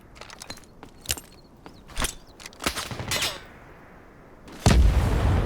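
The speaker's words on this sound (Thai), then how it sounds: "โดนระเบิดไป" Gunfire and explosions in the Delta Force tactical shooter game: scattered sharp shots and bangs, then a loud, close blast that rumbles on to the end.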